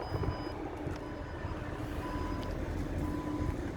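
The power tailgate of a 2012 Porsche Panamera Turbo S closes to a series of evenly spaced high warning beeps over a steady low mechanical hum, all close by.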